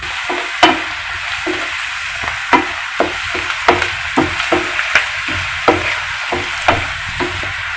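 Onion with ginger-garlic paste frying in a pan as it is stirred: a steady sizzle underneath, broken by repeated scraping and clacking strokes of a spoon at an uneven rhythm, close and fairly loud, with no talking.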